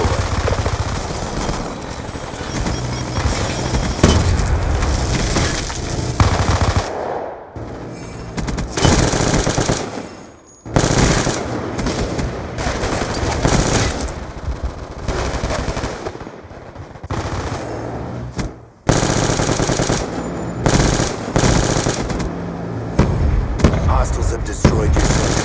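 Sentry gun firing in Call of Duty Black Ops II multiplayer, long loud bursts of rapid automatic fire with brief gaps and a few heavier booms, close and dense throughout.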